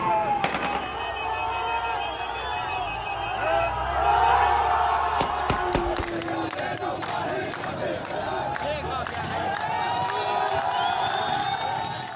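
A crowd celebrates in Homs, Syria, with loud cheering and shouting voices, punctuated by sharp cracks of gunfire or firecrackers throughout.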